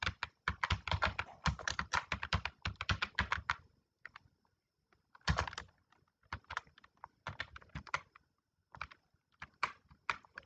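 Keys clatter on a computer keyboard while a CV address is filled in, in quick close bursts of typing broken by short pauses.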